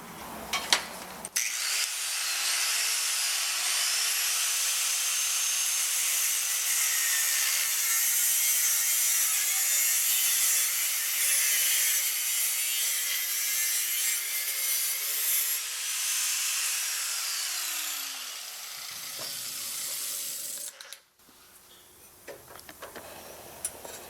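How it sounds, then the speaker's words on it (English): A power tool cuts the hangers off a Ford Focus ST muffler: a long, steady, harsh grinding cut of about twenty seconds, with a wavering pitch, close and loud, ending abruptly. No talking. "Cutting that V-band off, and then cutting the hangers off of this muffler."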